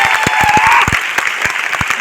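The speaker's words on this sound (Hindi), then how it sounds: "जोरदार तालियां।" Loud audience applause at a success celebration event in Delhi, dense crowd clapping with sharp individual claps standing out, sustained throughout.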